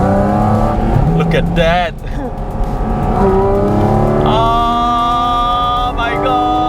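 A Porsche sports car with a naturally aspirated engine accelerates on the Sepang track in manual mode, a loud rising engine note with sharp gear shifts and a brief dip, while someone speaks briefly inside the car.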